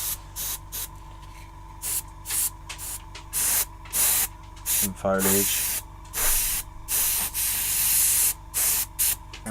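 Short bursts of aerosol spraying, a sharp hiss of artificial ice and snow spray repeated in an uneven rhythm, with someone talking briefly between sprays.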